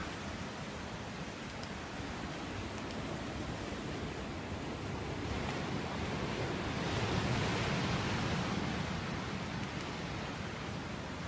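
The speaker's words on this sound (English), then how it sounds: "And there's the ocean." Pacific Ocean waves at Laguna Beach, a broad, constant wash of surf that swells gently in the middle, steady and unbroken with no voices.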